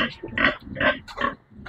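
A pregnant sow with a yellow ear tag, about 105 days along, grunts in a short run of four or five close, fairly loud bursts with brief gaps between them.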